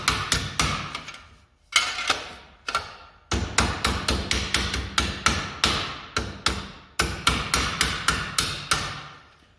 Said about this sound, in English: We're going to tap those down with the hammer